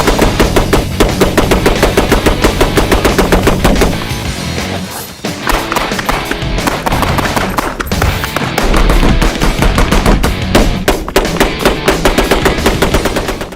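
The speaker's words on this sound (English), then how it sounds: "Once they finished firing the Gatling gun, Rick asked" An antique Gatling gun fires at a range in long, loud, continuous bursts of rapid shots, with a brief lull partway through before the rattling resumes, close and dominant.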